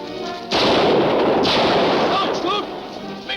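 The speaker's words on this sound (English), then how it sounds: "What's the idea of taking a shot at me?" A gunshot in a 1950 jungle adventure film, one loud sharp crack followed by a ringing, echoing tail, with a voice calling out over it.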